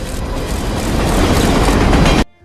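A train rushes past in a loud, dense roar of wheels and carriages, close and steady, building slightly before cutting off abruptly into near silence.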